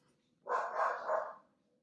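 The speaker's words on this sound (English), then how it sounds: "Bark, bark, woof, woof." A dog in a house lets out one muffled, drawn-out bark or low woof, moderately close, with quiet surroundings before and after.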